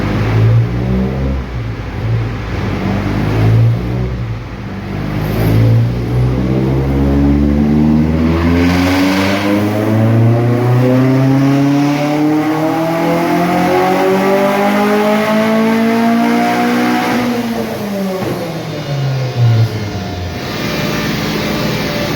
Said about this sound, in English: Up the rev limiter on the dyno